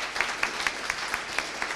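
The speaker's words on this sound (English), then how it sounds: "So give him a warm round of applause." Conference audience at NixCon 2018 applauding a speaker, faint steady clapping with a few distinct claps spaced evenly on top, brief and fairly distant in a large hall.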